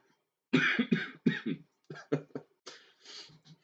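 A person coughs in a rough fit, several harsh coughs in quick clusters, close and loud, with short pauses between groups.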